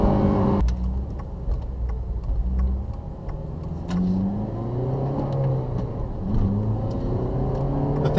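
A Honda Civic Si engine revs hard under acceleration, its pitch sweeping up and down through several gear pulls, close and loud over road noise.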